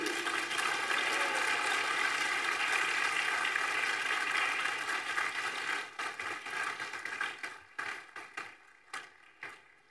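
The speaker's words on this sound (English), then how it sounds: "Give them a big round of applause and shout, "Thank you."" An audience at a university graduation ceremony applauds the graduates' loved ones with dense, fairly distant clapping that thins into scattered claps toward the end.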